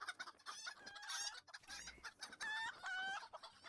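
Chickens cluck and crow repeatedly in Lord of the Rings Online, several birds calling close together in a busy, overlapping stream of squawks and clucks with no talk.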